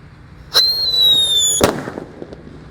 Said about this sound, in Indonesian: Lanjut yang kita nyalakan di sini ada mercon black buster.